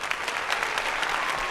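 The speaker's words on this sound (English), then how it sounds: "I got to give you an applause for that." Steady applause from a small audience at an all-men panel discussion, a dense patter of clapping hands that carries evenly at moderate volume without letting up.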